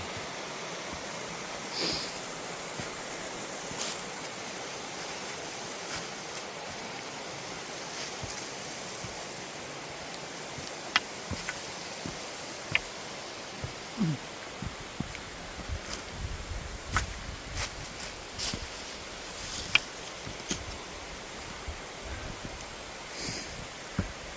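Winter waterfall in a valley beside Pyochungsa temple, a steady rushing wash of falling water heard at a distance, continuous and even, with faint scattered knocks.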